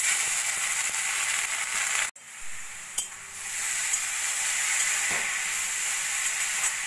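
Grated carrots sizzle in hot oil with two cardamom pods for carrot halwa, a constant close frying hiss broken by a sharp clack and a few scrapes of stirring, with no talking.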